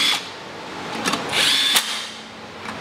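A power drill drives screws into the CVT cover of a Yamaha Aerox/NVX scooter, with short close whirring bursts separated by pauses.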